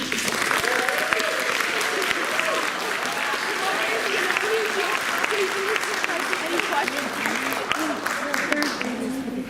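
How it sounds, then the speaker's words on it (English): An audience at a school film festival applauds student filmmakers, sustained dense clapping with murmuring voices and some cheering woven through it. "So if you can give those people a round of applause."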